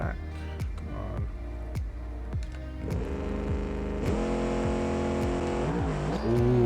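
A drag race car in BeamNG launches on nitrous, its engine revving up through rising pitch sweeps into a loud sustained roar, with a voice talking over parts of it.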